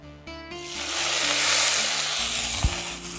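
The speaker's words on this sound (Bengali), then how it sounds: "কুচি করে রাখা মোচাটা আমি কড়াইতে ভালো করে ভেজে নেব।" Chopped banana flower hits hot oil in a wok, and a loud hiss surges up after a quiet start, then holds steady and slowly settles, with one brief knock near the end.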